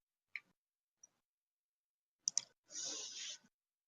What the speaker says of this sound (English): the typing is a little bit loud.